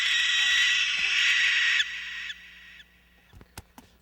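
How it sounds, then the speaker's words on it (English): An owl gives a loud, sustained shriek up close, then cuts off, leaving a few faint knocks and soft sounds in near quiet during a stage performance of Macbeth. "It was the owl that shrieked"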